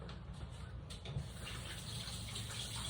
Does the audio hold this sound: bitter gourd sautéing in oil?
no